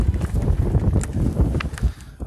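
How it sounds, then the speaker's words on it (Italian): Wind blows outdoors in a garden during the transplanting of a pomegranate plant, a steady low rumble of gusts buffeting the microphone throughout. "Ovviamente il vento mi accompagna."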